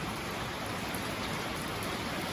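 Heavy rain pours down steadily outdoors on a farm where a horse stands eating, a dense, even hiss of drops with no pauses, close and loud throughout.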